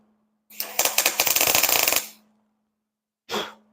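MIG tack welding on drop pockets for a 1986 Chevy C10 truck, a dense crackling buzz of about one and a half seconds, then a short second burst after a pause, close and loud with no talking.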